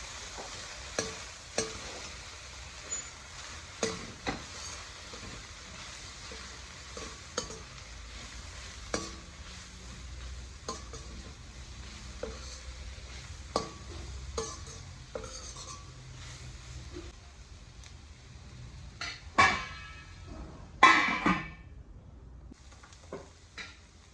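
Chili powder, garam masala and coriander powder frying in a pan while being stirred, a soft background sizzle under regular spoon clinks and scrapes against the pan, ending with a few louder clatters.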